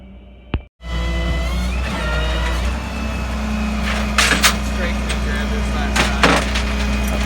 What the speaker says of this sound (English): My truck just arrived.